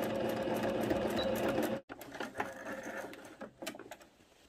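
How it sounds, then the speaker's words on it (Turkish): Sewing machine stitching viscose fabric for a pants-skirt, a fast steady mechanical whir that stops briefly, then resumes in shorter, uneven bursts, close and clear. "Şöyle bir 2-3 milim daha içeriden dikiyorum."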